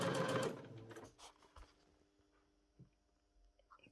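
Sewing machine sewing the curved edge of hoodie hood pieces, a short burst of close stitching whir at the start that stops, followed by quiet handling clicks and taps.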